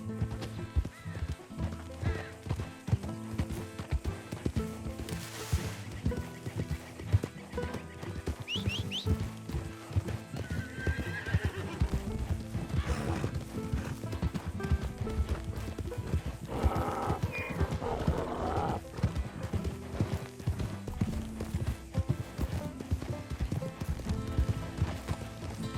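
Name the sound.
donkey hooves and braying in Red Dead Redemption 2 video game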